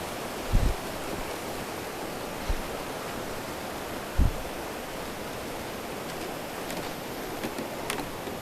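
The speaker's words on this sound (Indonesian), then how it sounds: "di bawah tuh sungai tuh" A river flows somewhere below a village path in the middle of the night, a soft, constant rushing wash with a few dull thumps of footsteps or handling close by. No one speaks.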